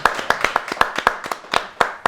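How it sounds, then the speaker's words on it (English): A small audience claps for a guest at a talk event. The claps are sharp and distinct and come at an uneven pace, close to the microphone, with no talking over them. "let's give him a round of applause"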